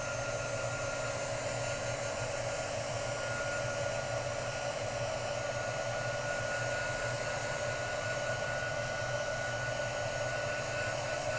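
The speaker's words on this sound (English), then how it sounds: "I'm going to hit it with the heat tool to give it some movement." A heat tool blows steadily onto heat-resistant acetate on a butterfly birthday card, giving a faint, constant fan whir and airy rush with no pauses.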